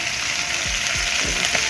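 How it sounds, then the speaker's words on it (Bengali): Tangra fish frying in oil in a pan, a constant close hiss of sizzling with soft rhythmic scraping underneath. "এবার ভাজছি এই মাছ"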